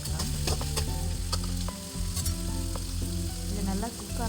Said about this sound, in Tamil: இது மூணுமே நல்லா கொஞ்சம் பச்சை வாசனை போகிற அளவுக்கு வதக்கி எடுத்துக்கலாம்.